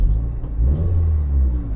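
A Toyota MR-S four-cylinder engine hums at close range with a low, steady drone and a slight rise in revs midway, with no voices.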